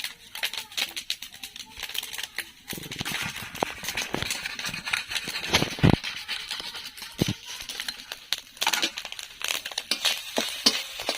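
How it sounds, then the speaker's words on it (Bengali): A boiled potato is rubbed against a kitchen grater in irregular, close, scratchy strokes with soft clicks between them and no talking. "আলু সিদ্ধ নিয়েছি একটা, তাই আমি ওটাকে গ্রেট করে নিচ্ছি।"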